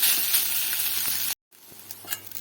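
Ingredients for Lilontika fish mash frying on low heat give a steady, close sizzle that cuts off briefly, then returns quieter with faint crackles.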